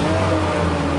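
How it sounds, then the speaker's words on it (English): Engine of a boom lift revving steadily during a pre-use check, a loud continuous low drone with no talk over it. "Now we want to go through the motions, make sure our engine revs."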